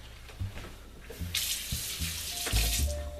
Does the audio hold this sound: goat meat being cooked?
no